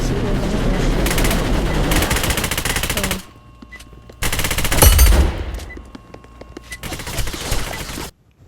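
Automatic gunfire in a Roblox shooter, with P90 submachine guns in play: dense, loud bursts of rapid shots for about three seconds, a brief lull, then another heavy burst and scattered firing that tapers off before falling quiet near the end.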